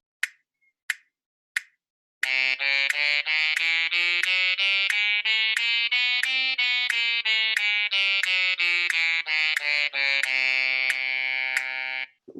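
A synthesized saxophone tone plays a smooth scale at 90 beats per minute, rising and then falling in even connected notes after a few sharp clicks, clean and close.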